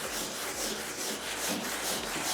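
Hand sanding a car engine bay on a panel van restoration with 180 grit sandpaper, giving a continuous close scratchy rubbing with rhythmic back-and-forth strokes.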